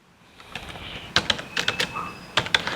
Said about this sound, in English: here I'm going to type as